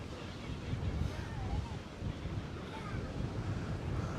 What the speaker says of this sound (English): Nice to hear that ocean sound indeed